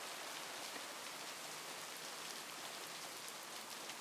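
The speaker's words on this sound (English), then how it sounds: "Oh, it's raining." Steady rain in a video game patters evenly throughout, a constant hiss of drops falling on surfaces with no voices.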